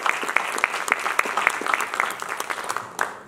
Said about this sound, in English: Let's give Clara a round of applause.